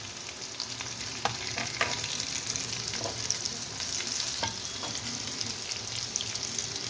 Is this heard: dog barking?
no